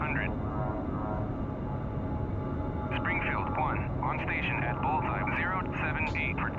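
An F-16 jet engine in the Falcon BMS flight simulator hums as a steady, loud drone, with radio-style voices talking over it.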